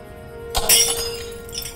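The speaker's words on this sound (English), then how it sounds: "I knocked over my glass." A drinking glass is knocked over and smashes, a sharp burst of shattering and tinkling shards after a quiet moment, close and loud, followed by a few scattered clinks as pieces settle.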